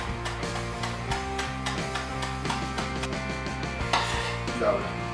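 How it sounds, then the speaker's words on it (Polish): A knife chops fresh dill finely on a cutting board, giving a quick, steady run of close, crisp taps that continues throughout. "kroję go sobie bardzo drobno"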